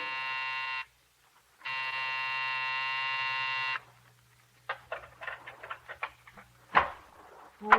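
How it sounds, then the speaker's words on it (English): An office building's night buzzer growls in two harsh, steady electric blasts, a short one then a longer one, followed by scattered faint knocks and clicks. "when you pressed the night buzzer,"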